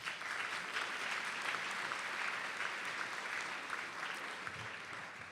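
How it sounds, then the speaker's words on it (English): Audience applause at a community development summit, a steady continuous patter of many hands, fairly quiet and distant, with no voices over it. "So, round of applause, everyone."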